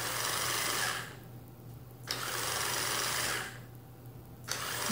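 Small cheap brushed electric motor in a hacked RC car driven from a breadboard, whirring in two bursts of about a second each with quiet gaps between, close and steady.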